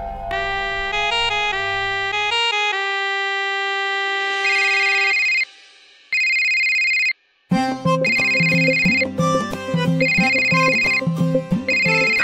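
A household telephone rings with a bright, melodic electronic ringtone, looping its phrase loudly and steadily with only brief breaks, close by and without anyone talking over it.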